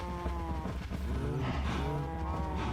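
Cattle moo repeatedly in a farm-building video game, several drawn-out lowing calls overlapping at close range over a steady low background hum.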